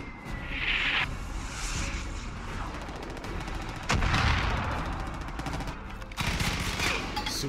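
Loud bursts of assault rifle fire in the shooter game Far Cry 5, rapid automatic volleys overlapping with other gunshots and a heavy boom midway, dense and continuous with no clear gaps.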